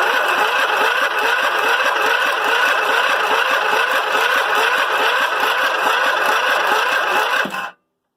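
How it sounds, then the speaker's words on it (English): A Westwood tractor mower engine cranks over steadily for a compression test, a dense continuous mechanical whir with rapid regular pulses, loud and close, cutting off abruptly near the end. "You watch out whilst I turn the mower over."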